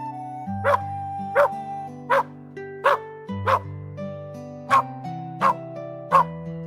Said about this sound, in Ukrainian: ось собака. Він каже гав-гав.